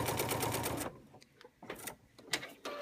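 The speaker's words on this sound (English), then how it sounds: "So I'm going to stitch right the way down that seam" A sewing machine stitches a quilt seam in a rapid, even burst of needle clatter for just under a second, followed by quieter scattered clicks and handling sounds.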